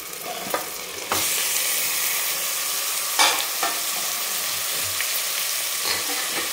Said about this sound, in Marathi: आता लगेच आपण याच्यामध्ये जे हळद मीठ लावलेलं मटण आहे ते टाकून घेऊ आपण.